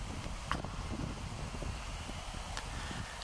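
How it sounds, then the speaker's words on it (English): Steady wind rushes and rumbles against the microphone outdoors on a cool night in Birmingham, Alabama, low and continuous, with occasional faint rustles and no voices. "Cool and windy night."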